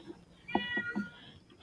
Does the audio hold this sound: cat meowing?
yes